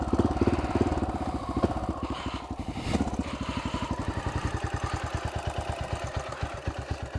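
Honda XR650L single-cylinder motorcycle fitted with an FMF jet kit, idling roughly and unevenly with a lumpy, sputtering beat; close and steady throughout, no voices.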